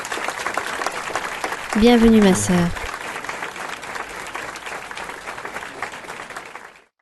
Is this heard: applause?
yes